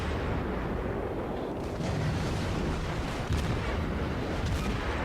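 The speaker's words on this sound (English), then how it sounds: "One more salvo, he should die." Naval guns of an Omaha cruiser fire a salvo in a warship video game, heavy rumbling booms rolling continuously at close range with a couple of sharper blasts near the middle and end.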